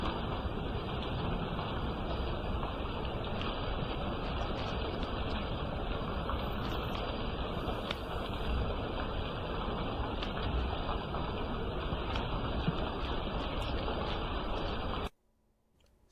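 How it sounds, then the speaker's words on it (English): Steady rain patters on a roof, a dense, even wash of drops that holds at moderate volume for fifteen seconds before cutting off. "So when rain hits the roof, that is to patter"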